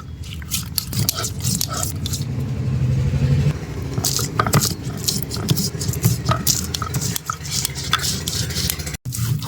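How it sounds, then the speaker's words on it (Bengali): Black mustard seeds, green chilli and salt ground together on a stone slab, a steady rasping scrape that runs continuously with rhythmic strokes, close and fairly loud. "সর্ষে আর কাঁচা লঙ্কা ধুয়ে নিয়েছি, দিয়ে দেবো শিলের মধ্যে। সামান্য পরিমাণে একটু লবণও দিয়ে দেব। এবারে সব কিছু একসাথে বেটে নেব।"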